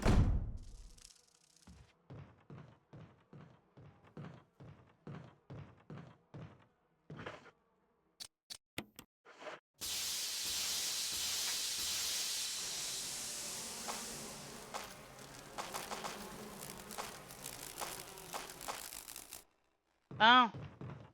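In the Resident Evil video game, an insecticide spray gives a long, steady hiss lasting about ten seconds, preceded by a series of clicks and thunks, with game sounds and a brief burst near the end.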